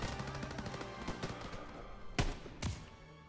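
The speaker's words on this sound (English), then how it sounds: "Let's grab this carbine, actually," Carbine gunfire in Call of Duty: WWII, fought in Germany's Hurtgen Forest: a rapid run of close shots followed by two heavier, spaced reports, loud and sharp with no talk.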